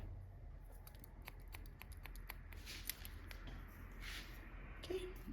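Scissors snip in quick, faint, irregular clicks while point cutting hair on a short, spiky style for a woman over 50, set against a quiet room.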